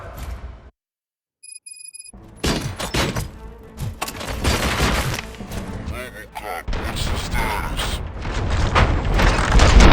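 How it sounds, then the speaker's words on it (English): Heavy bursts of video game gunfire and booming impacts from RoboCop: Rogue City crowd together, loud and chaotic, after a brief silence, with busy mechanical noise throughout. "Gunshots? What's going on?"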